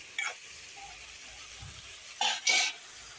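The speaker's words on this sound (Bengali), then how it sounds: "দেখো পালং শাক, এখন ভালো করে মজিয়ে নিচ্ছি বেগুন দিয়ে।" Spinach and eggplant fry together in a pan with a faint low sizzle, while a few sharp scraping stir strokes stand out near the end; no one talks.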